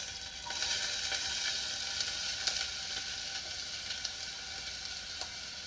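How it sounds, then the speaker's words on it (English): Onions and minced garlic sauté in olive oil in a medium saucepan over medium heat, a quiet even sizzle with occasional light stirring clicks, no talking. "We're going to saute the onions"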